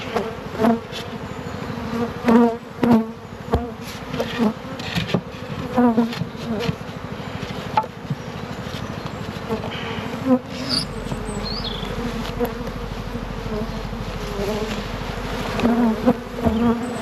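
Honey bees buzz densely around a beekeeper during mass winter feeding, a close, wavering swarm drone with individual insects zipping past the microphone, and a low rumble joining partway through.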